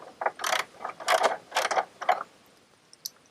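A ratchet clicks in quick bursts while removing 10mm bolts from a shroud on a John Deere GX325 mower, several rapid clicking runs close up with short pauses between them.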